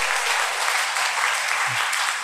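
Congregation at a Korean church sermon breaks into steady, dense applause that fills the whole stretch evenly and loudly, with no talk over it.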